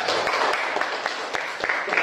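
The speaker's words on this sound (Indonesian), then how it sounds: "berikan tepuk tangan untuk kelompok ketiga" A classroom applauds the third presentation group, scattered hand claps with individual sharp strikes standing out over a looser patter, fairly close and brief, with a voice murmuring underneath.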